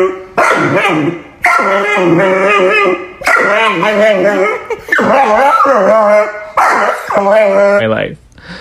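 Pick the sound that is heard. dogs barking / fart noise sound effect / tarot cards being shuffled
dogs barking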